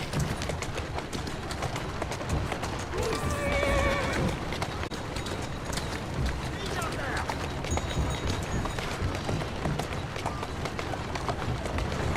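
In the video game Assassin's Creed Syndicate, a horse whinnies once while hooves clatter in a quick galloping rhythm, with a voice speaking over the steady hoofbeats.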